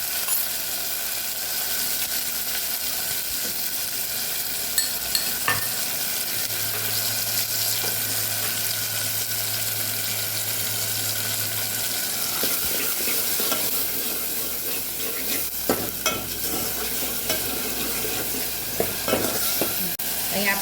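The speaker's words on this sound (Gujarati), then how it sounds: "મસાલાને સરસ આપણે સાતળી લેવાનું છે" Spice masala with chopped tomato, red chilli powder, turmeric and coriander-cumin powder sizzles in hot oil for moong dal fry, a continuous close crackle with occasional scrapes of a stirring spoon.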